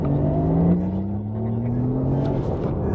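A 2024 Porsche Taycan electric car accelerating, with a steady rising whine and a low road and cabin hum that hold at a fairly loud level for about three seconds.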